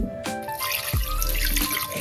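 Water running from a tap into a cooking pot holding a mutton leg, a steady close splashing stream that swells and continues for about two seconds with no talk.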